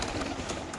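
Racer pigeons coo close by in short, soft, repeated calls over a busy background hum, with no speech.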